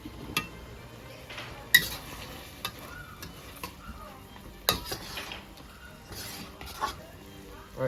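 A tomato and egg stir fry, Cantonese style with ketchup, stirred in a pan: scattered utensil scrapes and clinks against the metal over a soft sizzle, at an irregular rhythm.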